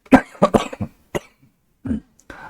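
Several sharp coughs come in a quick cluster, followed by a couple more after a short pause, close and fairly loud.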